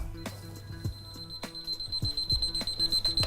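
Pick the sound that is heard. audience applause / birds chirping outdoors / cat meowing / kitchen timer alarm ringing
kitchen timer alarm ringing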